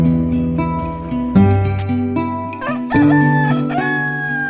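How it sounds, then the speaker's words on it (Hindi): A rooster crows at daybreak, long drawn harmonic calls repeating several times, clear and fairly close, with no other voices. "तभी मुर्गे के बाग देने की आवाज सुनाई देती है"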